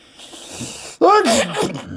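One abrupt sneeze from a person nearby, bursting out of a quiet, hissy background and tailing off in a short voiced exhale.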